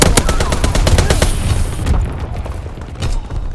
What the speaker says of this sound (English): Anti-aircraft bursts commence.